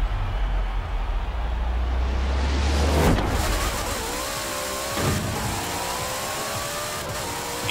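Shelby 1000 engine on a drag run in the video game Forza Horizon 4, a loud, steady rising roar with a gear change partway through, heard alone.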